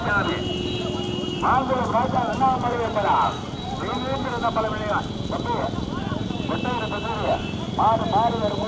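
Bulls pulling carts in a large-bull race in Sivaganga thunder past with rhythmic hoof clatter under a loud commentator's voice and background drone.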